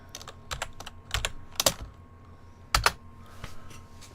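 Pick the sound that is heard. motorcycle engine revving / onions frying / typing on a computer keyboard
typing on a computer keyboard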